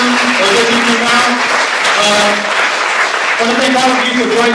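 An audience at a film festival post-screening program claps in steady, dense applause throughout, with a voice speaking over the clapping.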